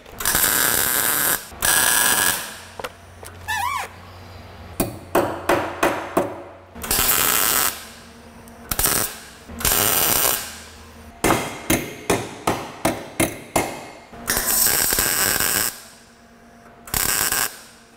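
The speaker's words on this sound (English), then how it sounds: "Now I will weld them in." Close by, new metal repair pieces are welded onto a rusted car structure in short crackling bursts of tack welds, some long and some rapid, with pauses between them.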